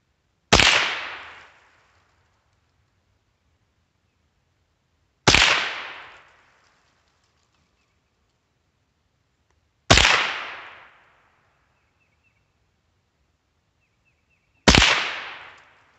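Four loud, sharp rifle shots from a Savage 62F fired at 30 yards, each a crisp crack with a quick decaying tail, spaced about four to five seconds apart in otherwise quiet surroundings.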